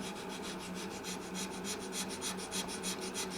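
A coarse-toothed abrading tool scrapes a thick polyurethane finish on a Music Man guitar, giving steady back-and-forth rasping strokes up close, each stroke rising and falling in a quick regular rhythm.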